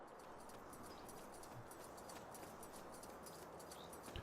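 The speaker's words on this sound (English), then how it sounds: "I can hear the Devourer up here stomping around." The Devourer stomps around in the SpellForce 3 video game, heard as a steady run of muffled, evenly spaced thuds. The footfalls repeat like hoofbeats under a constant hissing background.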